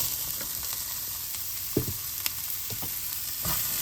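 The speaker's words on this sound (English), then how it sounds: "we're just gonna lightly pan fry these vegetables just to finish everything off" Sizzling of vegetables lightly pan frying together with salmon and shrimp in one pan, a steady bright hiss with a few soft stirring knocks, close and alone.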